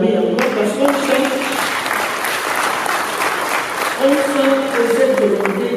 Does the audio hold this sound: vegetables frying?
no